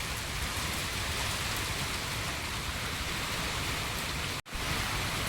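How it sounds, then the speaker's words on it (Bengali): Heavy rain drumming on an asbestos roof: a loud, dense, continuous roar of drops with no thunder, cutting out briefly for an instant near the end. "আর অ্যাজবেস্টারের চালে যখন বৃষ্টি পড়ে কি আওয়াজ হয়"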